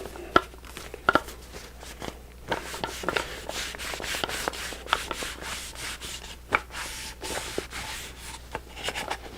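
Metal parts of a shotgun being wiped down with a cloth and lubricating oil, giving soft uneven rubbing and scuffing strokes with a few small taps, close and quiet, with no talking.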